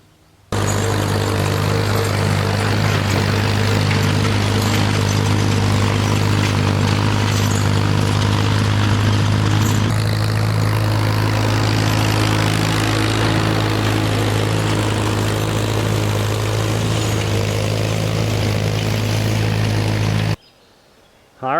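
A lawn mower runs continuously while mowing a farmhouse side field in hot weather, a loud steady engine drone held close for about twenty seconds before cutting off abruptly.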